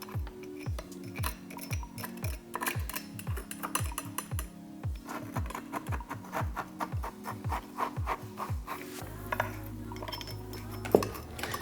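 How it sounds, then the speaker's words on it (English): A metal sand flattener pushes aquarium sand toward the foreground of a glass Iwagumi tank, making a rhythmic series of close, scraping strokes about every half second, with a brief sharp clink near the end. "I'm just pushing it with the sand flattener to the foreground."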